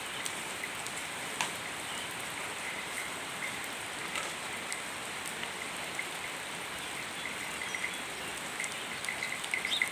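Steady rain falling outdoors, an even hiss of drops with occasional closer splashes and taps on a surface, continuous and moderately quiet, with no voices.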